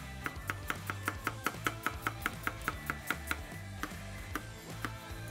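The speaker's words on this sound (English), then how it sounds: "with the vegetables, just chop them up nice and fine" Vegetables chopped fine with a knife on a board for chicken spring rolls: a steady run of crisp, evenly spaced taps, close and clear, about fifteen strikes with a short pause near the end.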